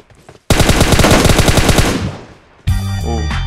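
Rapid automatic gunfire in the PUBG Mobile battle royale game, a loud dense burst of repeated shots lasting about a second and a half, trailing off before a brief pause and a different in-game sound.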